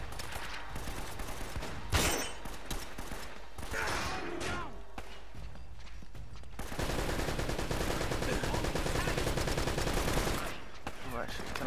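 Dense gunfire in the action game Uncharted: Drake's Fortune, with rapid automatic bursts and a few heavy impacts at close range, while a voice talks over parts of the fighting.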